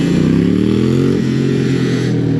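A motorcycle riding with a group at high speed gives a loud, close engine drone whose pitch shifts steadily through the short stretch, as if passing or changing speed.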